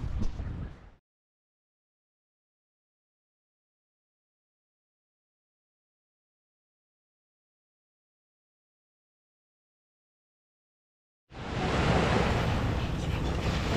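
Sea waves wash onto a beach at a resort in Nagbalayong, Morong, Bataan, heard loudly and close with wind buffeting the microphone; the surf cuts off after the first second, there is a long silence, and then it returns strongly near the end.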